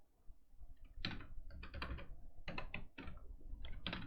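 Keys clatter on a computer keyboard in quick bursts of clicks, separated by short pauses, while text is typed into a design app. The tapping is close and fairly quiet, with no talking.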